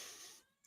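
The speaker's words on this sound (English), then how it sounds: "We got the kitty cat." A cat gives one short, faint meow, followed by a tiny trailing chirp.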